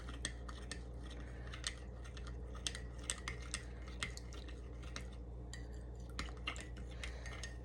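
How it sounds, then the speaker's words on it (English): Lime mousse mixture is stirred with a utensil in a container, producing a steady series of close, faint clinks and scrapes at an uneven rhythm, without talk. "Give it a good stir."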